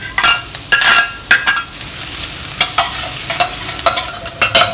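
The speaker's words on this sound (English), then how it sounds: "This is half a thumb size of a ginger, fried until fragrant." Chopped garlic and ginger fry in hot oil in a pan, with a loud close sizzle and repeated bursts of stirring and scraping in an irregular rhythm.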